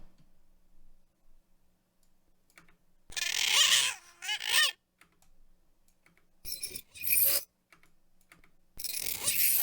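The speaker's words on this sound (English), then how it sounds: "This is a bird cawing mixed with like a metal spring." A synthesized sound effect blends a bird's caw with a springy metal twang, played as several separate bursts with silent gaps between them, loud and close, with no talking over it.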